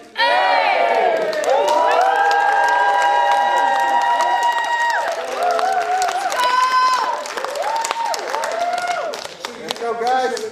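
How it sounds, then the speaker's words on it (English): Audience at a live showcase concert cheering and clapping loudly throughout, with whoops and shouts rising over steady applause and a voice calling out over the crowd noise. "can you give a round of applause"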